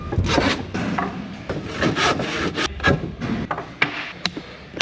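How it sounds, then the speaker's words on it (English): A handsaw cuts through timber in steady back-and-forth strokes, each rasping pass loud and close with short pauses between, and no talk over it. "So they've given me a handsaw."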